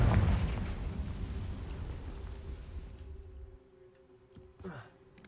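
A Confringo fire spell detonating in Hogwarts Legacy: a heavy rumbling blast that fades over a few seconds, followed by a brief sharp magical zip.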